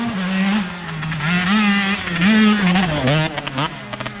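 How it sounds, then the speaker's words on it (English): A motocross bike engine revs hard and steadily with the throttle held, its pitch rising and falling in waves over about four seconds, loud and close, ending in a few short sputtering blips. "He's revving the bike"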